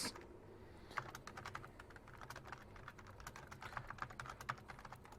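Rapid, irregular clicking of keys being typed on a computer keyboard, fairly close and steady for several seconds, with occasional louder strikes and no one talking.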